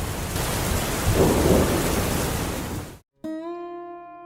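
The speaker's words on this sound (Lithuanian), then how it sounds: "Tokia buvo naktis, dar lietus pro skylėtą stogą." Steady heavy rain at night, pouring through a leaky roof, fills the first three seconds as a dense, loud wash, then breaks off abruptly and gives way to a sustained musical tone.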